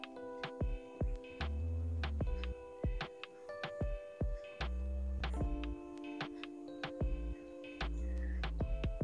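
A kitchen mixer grinder runs in pulse mode while grinding for Odia enduri pitha. Loud humming bursts start and stop repeatedly, with clicks and rattles between the pulses and no talking.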